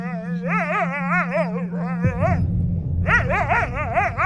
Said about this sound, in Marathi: अचानक दूरवर कुत्र्यांचे भेसूर रडणे आमच्या कानी पडले